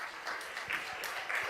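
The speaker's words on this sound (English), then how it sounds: "I want you to give these persons a round of applause" A round of applause fills a legislative chamber during a plenary sitting, a soft, steady patter of clapping from many people at a moderate distance.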